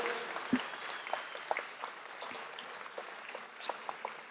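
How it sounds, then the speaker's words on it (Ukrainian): Applause from an audience at the closing ceremony of iForum-2023, a soft, steady patter of many clapping hands at a moderate distance with no speech over it. "Я прошу аплодувати всім цим людям."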